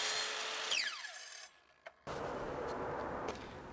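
A saw cuts through wooden centre pieces for a curved adjustable phone stand, with a sharp whining sweep, a brief drop to near silence and a click, then a rough, steady cutting noise resumes, close and fairly quiet.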